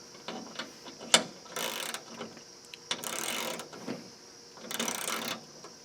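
A new-style Craftsman ratchet clicks through three bursts of rapid ratcheting, close and fairly loud, with a sharp tick and a few lighter clicks between them and no talk.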